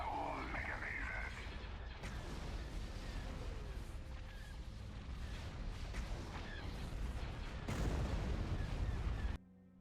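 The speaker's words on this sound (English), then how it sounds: "Fire all mega lasers." Heavy destroyer mega lasers firing in a Star Wars: Empire at War mod space battle, a steady barrage of booming blasts and crackling impacts that swells louder toward the end, then cuts off abruptly.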